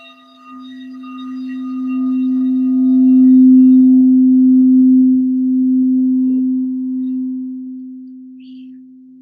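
A crystal singing bowl rings with one pure, steady sustained tone that swells gently and then slowly fades, loud and alone, with faint overtones above it.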